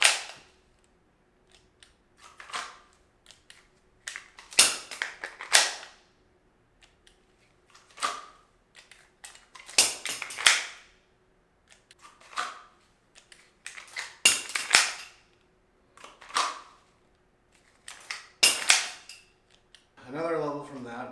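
A handgun is dry-fired in practice, with a series of sharp mechanical clicks and clacks from the draw, trigger and reload, spaced out in irregular bursts over about twenty seconds with quiet gaps between.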